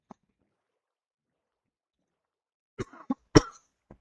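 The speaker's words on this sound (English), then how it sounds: "Sorry, cough." A few short, sharp coughs close to the microphone after a long stretch of near silence.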